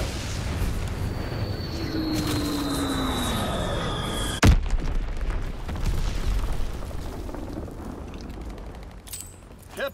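A bombing run in Call of Duty: WWII: descending whistles build over a rumbling battlefield, then a loud close explosion cracks, followed by a fading roar and scattered distant booms.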